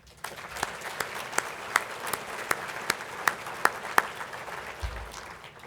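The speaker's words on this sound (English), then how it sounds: "Can we please give them a round of applause?" Small audience at an annual meeting gives a brief round of applause, with sparse, distinct claps standing out over a soft background wash, fairly near and moderate in level.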